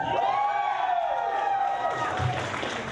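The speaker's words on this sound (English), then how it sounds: "Got a great crowd here tonight" A crowd at a women's wrestling event cheering and whooping in a large hall, a sustained roar of many voices with someone talking over it.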